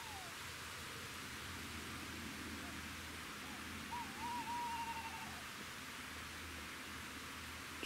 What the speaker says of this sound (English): And the owls.